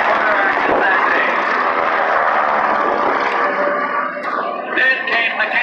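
A propeller aircraft drones loudly overhead at an air show, a sustained engine roar that shifts in pitch as it passes, mixed with announcer speech over loudspeakers.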